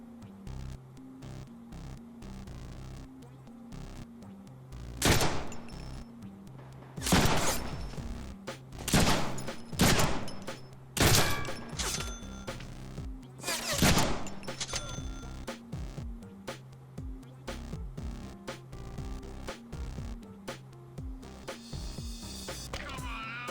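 Gunfire in the video game Doom: a series of loud, sharp blasts clustered in the middle of the stretch, some in quick succession, over a steady low hum and static.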